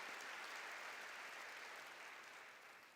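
A church congregation applauding during a sermon, a dense wash of clapping from many hands that holds steady and then slowly tapers toward the end, heard from a distance without speech over it.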